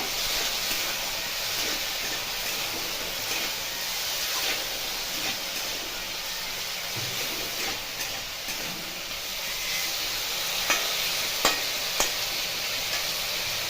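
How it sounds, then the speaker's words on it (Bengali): Potatoes frying in a pan with a little turmeric hiss steadily while a spoon occasionally knocks and scrapes through them, a few sharper clinks near the end. "আবার ভালো করে নেড়ে নেব"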